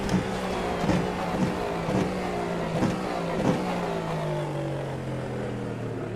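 A Cadillac race car in the iRacing simulator, its engine droning loud and close with repeated surges and gear shifts, then settling into a steadier note.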